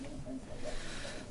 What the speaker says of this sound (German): Habt ihr die Katze gehört?